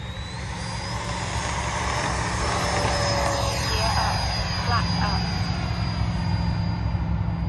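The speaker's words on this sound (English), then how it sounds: "Free wing F-22 Raptor 90 mil. Taking off, baby." A Freewing F-22 Raptor 90mm electric ducted-fan model jet takes off, a steady loud whooshing turbine-like roar with a high whine building and holding throughout, close to the listener.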